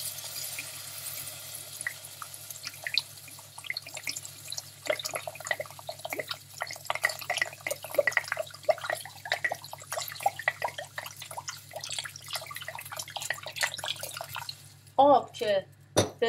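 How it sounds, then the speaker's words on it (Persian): Water is poured into a pot for cauliflower stew, a continuous splashing and trickling that runs for about fifteen seconds and ends with a few louder sloshes. "آب میریزیم."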